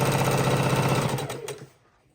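A sewing machine runs steadily, stitching a straight quarter-inch seam across quilt blocks, a close continuous whir that slows and stops after about one and a half seconds.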